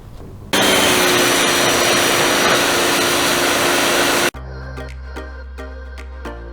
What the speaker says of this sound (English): pressure washing is done. Took off a ton of mud, gunk, dirt daubers nests.